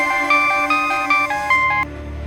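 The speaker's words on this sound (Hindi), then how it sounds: "हवेली पहुंचने से 5 मिनट पहले ही हमारे पास एक फोन आया" A telephone rings with a repeated electronic ringtone, a loud, close series of bright, evenly spaced tones that stops after about two seconds.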